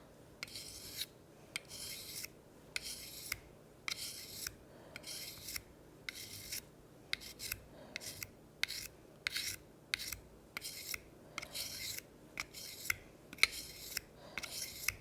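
Steady rasping strokes of a file drawn across a pruner blade, sharpening off a marker line along the edge, repeating in an even rhythm of short bursts, close and fairly quiet with no talking.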